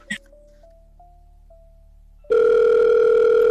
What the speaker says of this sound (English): Oh, I got a phone call